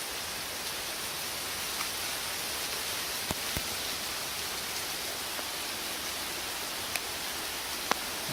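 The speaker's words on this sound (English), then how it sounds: "Oh, this rain is such a" Heavy rain pours steadily over desert ground, a dense, even hiss with a few sharp drop ticks standing out, no voices.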